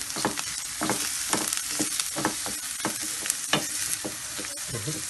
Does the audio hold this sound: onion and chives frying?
yes